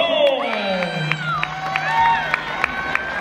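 Crowd of audience members cheering, whooping and applauding for contestant number five at a live shouting contest, a loud continuous roar with scattered sharp claps and high shouts over a short stretch.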